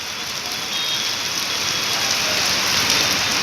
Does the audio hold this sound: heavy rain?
yes